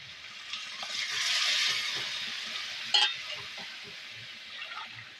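Spices sautéing with a katla fish head in a pan: a faint, steady hiss of frying with a brief sharp clink of a utensil partway through, no voices.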